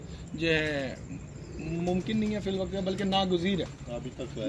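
Racing pigeons in a rooftop loft coo with soft, rolling calls that continue under a man's close conversational speech.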